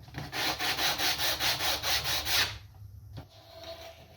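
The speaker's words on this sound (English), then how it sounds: "I'm just sanding it so it's not so, just burn a little bit so I don't get pieces in me" A cut fiberglass part is sanded by hand to take off loose glass pieces, with about nine quick, even rubbing strokes in a steady rhythm, close and distinct, before it stops and goes quiet.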